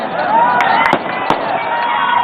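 Firecrackers burst in a few sharp, separate cracks over a steady background of crowd and voices, the pops loud and close, spaced irregularly.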